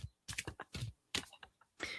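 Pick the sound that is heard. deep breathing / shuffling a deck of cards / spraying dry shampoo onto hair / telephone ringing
shuffling a deck of cards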